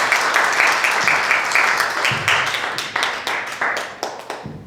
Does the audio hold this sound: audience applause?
yes